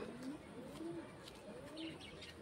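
Pigeon cooing at an outdoor pigeon sale, a few soft low coos in a steady murmur of background noise with faint chirps from other birds.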